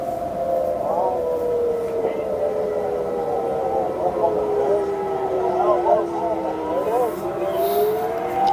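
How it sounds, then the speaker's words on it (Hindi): A wailing air-raid siren sounds during an attack in Chabahar, Iran, its rising and falling tone sweeping steadily across the whole stretch, with a continuous background rumble and no voices. "सायरन सुनिए"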